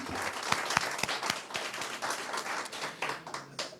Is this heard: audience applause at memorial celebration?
yes